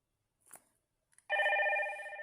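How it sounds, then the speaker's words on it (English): A Hikvision IP intercom door station plays one of its preset ringtones: a couple of faint clicks, then a sustained electronic two-tone bell trill that starts abruptly and rings steadily to the end. "just a basic ring"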